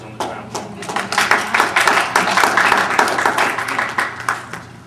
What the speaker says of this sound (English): So I want you to give yourselves a round of applause for your efforts on the ground.